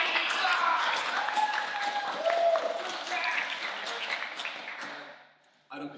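A standup comedy workshop audience claps and cheers for the next comedian, with steady broadband applause and some voices mixed in, tapering off before a brief final burst.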